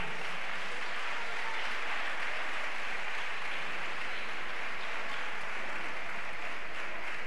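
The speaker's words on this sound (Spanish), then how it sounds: "Un fuerte aplauso para Antonia Sánchez." Audience applause for a designer at a flamenco fashion show fills the room in a steady, dense wash of clapping with no talking.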